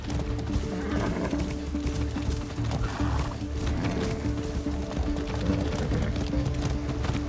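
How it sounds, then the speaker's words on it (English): Horse hooves clip-clop steadily in Far Cry 6, a continuous rhythmic trot under a dense outdoor game ambience, with no talking. "A good horse."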